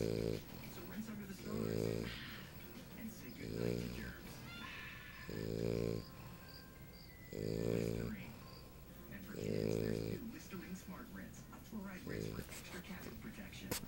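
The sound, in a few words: English Bulldog puppy snoring while sleeping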